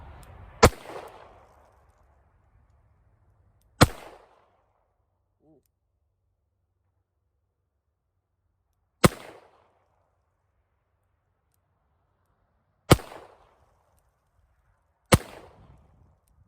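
Revolver firing at an outdoor range, five sharp, loud gunshots spaced several seconds apart, each followed by a short echoing decay in near silence.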